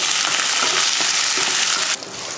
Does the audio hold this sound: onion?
yes